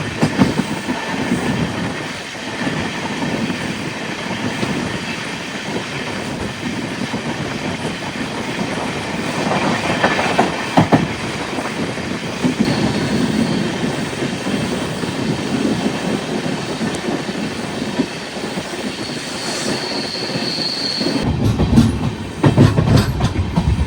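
The Kozhikode Jan Shatabdi Express, newly running on LHB coaches, roars along at speed with steady rumbling wheel noise and faint rhythmic clatter from inside the carriage, loud and continuous.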